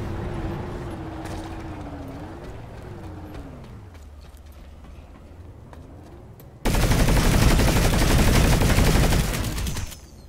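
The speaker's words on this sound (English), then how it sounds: "Oh, that's me shooting." PlanetSide 2 gameplay: a vehicle engine hums and glides in pitch, then a loud, sustained burst of rapid gunfire from a Harasser's mounted gun erupts and runs for about three seconds before cutting off.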